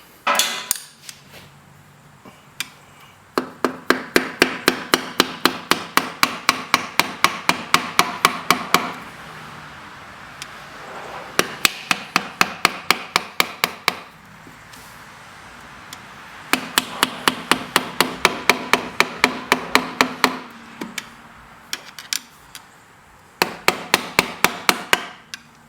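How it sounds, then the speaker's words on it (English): A screwdriver is tapped against a BMW ZF320 transmission seal to work it loose, making rapid bursts of sharp metallic taps in quick even runs with short pauses between them, close and distinct. "as I just tapped one side of it with the screwdriver, I was able to pivot the seal and get it out"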